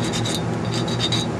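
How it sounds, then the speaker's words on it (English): A metal file burnishes the tube socket pins of a Philco 50-920 tube radio under repair, making a few short, close scraping strokes in quick succession against a steady background hum. "I may even get the file out here, just sort of burnish up these pins a little bit."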